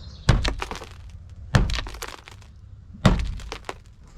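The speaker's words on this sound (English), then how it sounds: "Watch when I hit the side here." Three sharp blows against the side of an old camper, each a hard crack-thunk followed by a brief scatter of rattling, falling rust, evenly spaced about 1.3 seconds apart and close.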